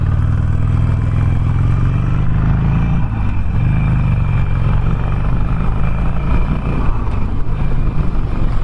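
A 2019 Harley-Davidson Sportster Roadster cruising in fourth gear, its V-twin engine a loud, close, steady throbbing rumble with wind noise, the pitch dipping briefly and then holding on.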